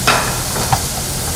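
Green peas being added to cabbage frying in a pan with spices, giving a brief steady sizzle and a couple of stirring clicks, close and loud, with no talking.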